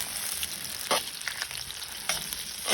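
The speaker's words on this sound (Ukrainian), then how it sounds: "Тепер вижарюємо цибульки, цибульку." Onions frying in oil in a cast iron kazan on an outdoor stove, a steady close sizzle with a few sharper stirring scrapes over it.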